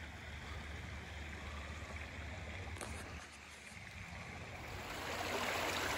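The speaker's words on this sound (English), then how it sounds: "Here's the creek." A creek flows steadily past the concrete remains of an old dam at an abandoned WWII camp, a continuous close rushing of water that grows slightly louder toward the end.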